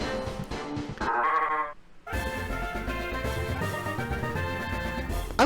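A sheep Pokémon bleats as it evolves in the video game Pokemon Uranium, a loud, wavering synthesized bleat under bright game music that keeps playing after a short pause.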